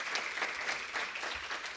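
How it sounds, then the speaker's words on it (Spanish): An audience at a university event on World Autism Awareness Day claps in warm, continuous applause, moderately faint and steady with no speech over it. "Pido un fuerte aplauso para cada uno de ellos"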